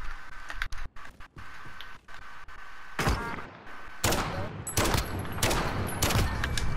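Gunfire in the Call of Duty Modern Warfare video game, heard as several sharp bursts and rapid volleys in the latter half, preceded by quieter thuds and handling noise.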